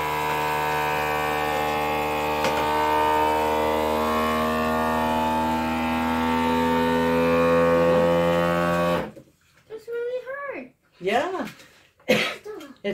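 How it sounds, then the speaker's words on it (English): A vacuum sealer pump draws the air out of a plastic bag with a loud, steady, droning hum for about nine seconds, then cuts off and a person starts talking. "sucks all the air out of the vacuum bag and these"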